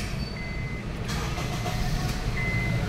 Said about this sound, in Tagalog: maandar na yung engine